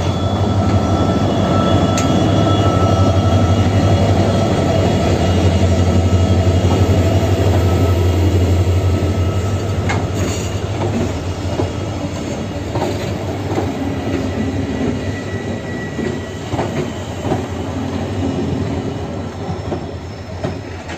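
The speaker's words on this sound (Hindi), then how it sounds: "स्पेशल ट्रेन अभी जा रही है" A special passenger train passes on a restored rail line in the Dima Hasao hills, giving a loud, continuous rumble of wagons and wheels with clickety-clack and occasional wheel squeal, close by throughout.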